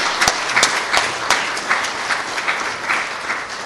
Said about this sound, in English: let's give a round of applause for all our speakers and everything